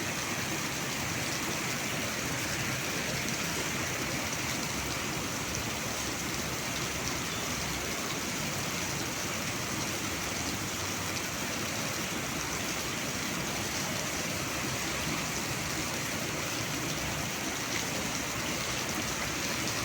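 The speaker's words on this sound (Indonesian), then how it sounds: "udah nyampe sini udah lebat banget hujannya" Heavy rain pours down steadily in Padang, Indonesia, a dense, loud, unbroken hiss of drops on surfaces with no voices.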